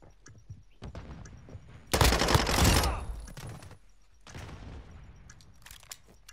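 A sudden loud blast bursts out after quiet rustling in the game Modern Warfare 2, Search and Destroy mode, roaring for about a second before fading into rumble and scattered crackles.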